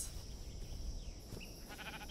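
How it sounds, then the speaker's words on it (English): Sheep bleating in the video game Minecraft, a faint, brief bleat near the end over quiet background noise, with no speech. "Hey, sheep."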